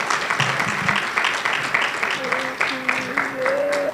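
Audience applause at a high-level policy dialogue, sustained steady clapping from a crowd, with voices and a brief tone rising over it in the second half.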